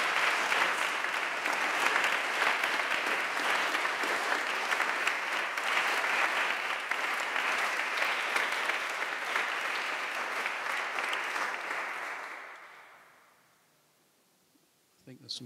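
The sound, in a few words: round of applause for the musicians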